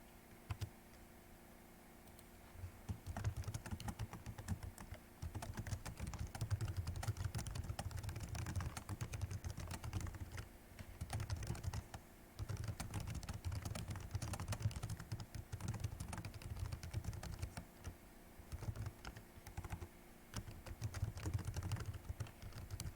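Steady, close computer keyboard typing runs throughout as code is entered, with rapid key clicks in bursts and brief pauses.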